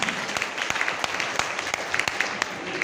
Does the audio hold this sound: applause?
yes